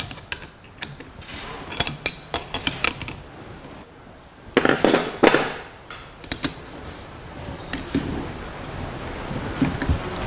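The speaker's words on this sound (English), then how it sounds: "There are some two long bolts which are holding this solenoid, so I have to remove them." Bolts being worked loose from a car starter solenoid with metal tools: a run of sharp clicks, clinks and ratcheting taps, with a denser metallic scraping burst midway, close and fairly loud.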